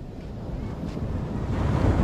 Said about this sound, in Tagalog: pumapatak na naman ang ulan. Grabe lalaki ng alon, no?